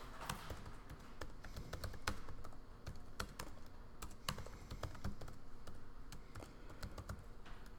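Rapid typing on a computer keyboard during a programming lecture, a quiet, close run of irregular key taps and clacks with no talking.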